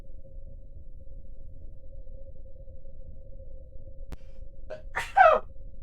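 A single sharp human sneeze bursts out near the end after a faint background hum and a brief click, loud and close against an otherwise quiet room.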